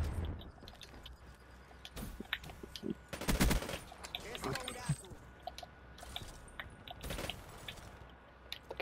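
Gunfire in the Black Ops 3 video game, with rapid bursts and single shots going off at a low level in the background while a player talks over the action.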